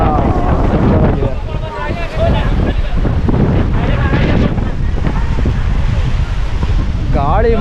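Strong gusting wind roars across the microphone at the seashore near Rameswaram, a loud continuous buffeting rush with the sea faintly beneath and a person speaking over it.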